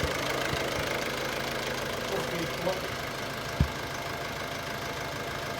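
A 2008 Ford Focus engine idling after an alternator replacement, a steady low hum with faint knocking and a couple of brief clicks, heard at moderate level without talk.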